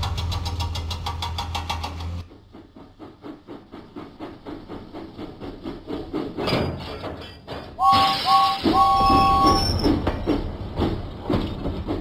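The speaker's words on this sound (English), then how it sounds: "James pumped his pistons and puffed out of the docks." Cartoon steam locomotive sounds from a Thomas & Friends video game: a steady rhythmic puffing and rolling engine, then a bright multi-tone whistle blast partway through, all fairly loud with no talk over it.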